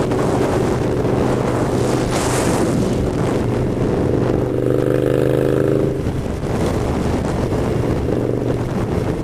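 A 2016 Indian Scout six-speed motorcycle is ridden hard up through the gears, its engine note rising and shifting pitch under constant heavy wind rush, loud and close throughout.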